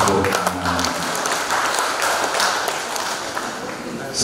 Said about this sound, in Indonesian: Bolehlah tepuk tangan.